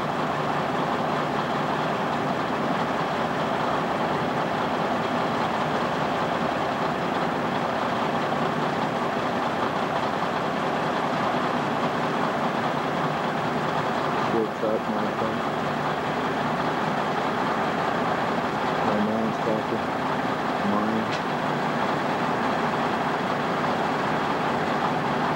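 A Caterpillar D8N bulldozer works on a hill, its heavy diesel engine a steady, loud low drone that holds throughout with only faint clanks from the machine.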